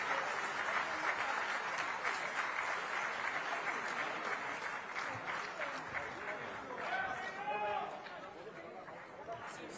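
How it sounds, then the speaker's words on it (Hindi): An audience at a Rajasthani conference in Guwahati applauds loudly, a dense sustained roll of clapping with crowd chatter under it that begins to thin toward the end. "तालियों की गड़गड़ाहट इस बीच रुकनी नहीं चाहिए।"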